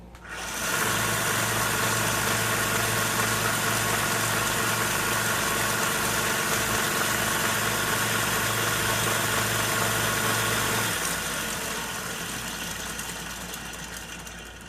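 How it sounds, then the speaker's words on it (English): A high-speed grinder doubling as a belt sander runs a homemade glued-together sanding belt, giving a loud steady motor whir with a low hum for about eleven seconds before it cuts off and winds down. "we've glued a belt together to use for a high-speed grinder slash belt sander"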